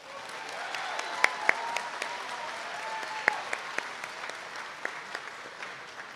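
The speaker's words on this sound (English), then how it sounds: "Let's give our new members a round of applause." Audience applause welcoming new members at an NSCS induction ceremony at GCU: a steady, sustained wash of clapping from a large seated crowd, with a few sharper individual claps standing out.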